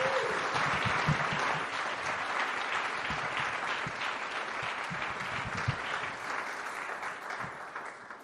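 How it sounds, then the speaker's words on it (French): A church congregation claps together during a sermon, a broad, steady wash of applause that carries on for about eight seconds and fades gently near the end. "Est-ce qu'on peut applaudir ce Jésus qui s'est donné pour chacun d'entre nous?"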